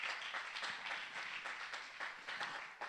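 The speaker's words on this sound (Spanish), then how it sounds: "Aplauda al Señor entonces." A church congregation applauds during a Spanish-language service. The clapping is a dense, moderately distant patter with small surges and a fairly even level throughout, and no clear voices over it.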